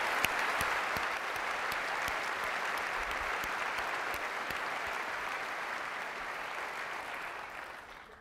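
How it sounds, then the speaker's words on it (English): Sustained, loud audience applause fills a large hall at the Apple WWDC 2008 keynote, a dense wash of clapping that holds steady before tapering off at the end. "I'd really like to give one more round of applause thanking all of our developers for their amazing work"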